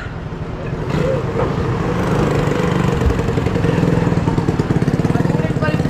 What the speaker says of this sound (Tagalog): Matuling pa talaga yung motor na yan.